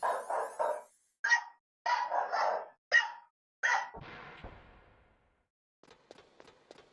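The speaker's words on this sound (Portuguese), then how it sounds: "O cachorro da minha sogra latindo." A mother-in-law's dog barks in a string of about five sharp, fairly close barks, then gives a fainter whimpering, yipping tail-off, with no talk over it.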